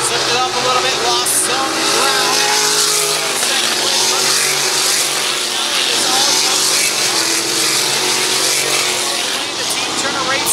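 Sprint cars roar around a dirt oval in a steady, loud wall of engine noise. A race commentator talks over the cars throughout.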